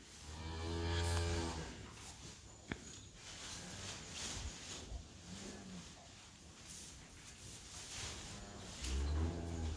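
Cattle on a farm moo loudly and close by, with one long low call near the start and another at the end, separated by quieter barn noises and shuffling.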